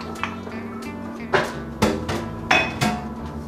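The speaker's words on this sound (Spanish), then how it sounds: "Después de haber agregado el agua, vamos a agregar la zanahoria" Chopped carrots knock into a pot of water for Japanese chicken curry, four distinct hard thuds and clatters spaced roughly half a second apart over a low steady kitchen hum.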